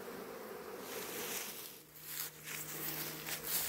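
A honeybee swarm buzzes around a hive, a dense, continuous hum of many bees close by that stays steady throughout.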